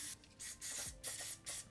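A series of short sunscreen aerosol spray bursts, about five quick hisses separated by brief pauses, fairly close and steady in rhythm.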